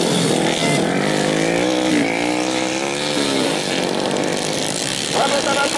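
Motorcycle taxi race: loud, continuous engine drone with rising and falling revs from several bikes, heard under a constant excited announcer commentary over a crowd.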